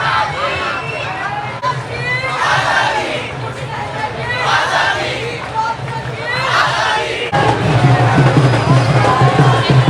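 A large, dense crowd at the 2023 Delhi Queer Pride Parade fills the air with constant loud chatter, shouting and cheering, with a steady hubbub close around the listener throughout.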